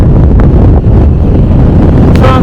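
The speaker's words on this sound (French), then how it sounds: "Beaucoup de vent, froid, désagréable." Loud, constant wind buffets the microphone on a cold mountain ridge in the Pyrenees, a roaring rumble that drowns out everything else.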